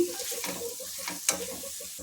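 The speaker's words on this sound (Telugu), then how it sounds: "దీంట్లో కారం ఉంటుంది కదా, బాగా కలుపుకుందామండి." Egg garlic chili fry is stirred in a pan, with a steady sizzle under repeated scraping strokes and one sharp clink of the utensil against the pan, close and continuous.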